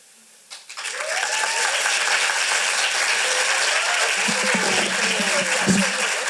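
An audience at a young playwrights' festival cold reading bursts into applause after a brief quiet moment, clapping steadily and fairly close for several seconds, with a few voices mixed in.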